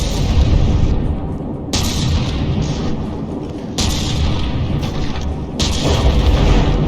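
An APS gun on the capsized battleship Divine Offering fires in From the Depths, hitting itself. Loud, deep booms land about every two seconds over a constant heavy rumble.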